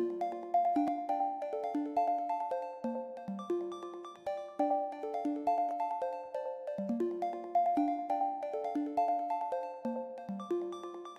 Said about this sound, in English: So the Omnisphere ARP is called Reduced Shaker Samba